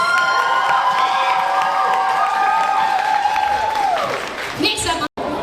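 A crowd at a cosplay competition applauds and cheers loudly, with whoops and shouts over steady clapping. A rising voice carries through the middle, and the noise drops away near the end before a brief cutout.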